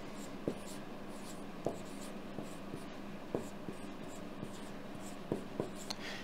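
A hand writes out a note, likely pen on paper, with a soft steady scratching and several sharper taps as strokes start, close and quiet against a faint background hiss.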